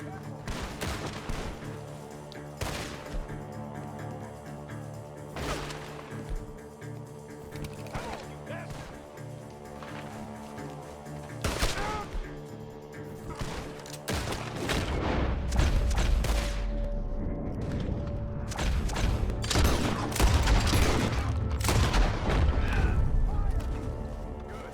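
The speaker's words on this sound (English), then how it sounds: "The gunshots are coming from that barn." Sharp gunshots in the video game Red Dead Redemption 2 crack repeatedly over a steady musical drone, growing denser and heavier toward the end amid rumbling booms.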